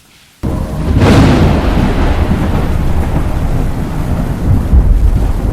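A thunderstorm with heavy rain during a wedding procession by a river: a loud rumbling thunderclap breaks in and then rolls on under a steady, dense roar of rainfall.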